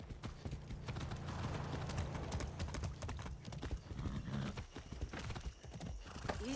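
Rhythmic clip-clop of horse hooves trotting steadily in the video game Far Cry 6, close and clear, with a short whinny-like sound partway through.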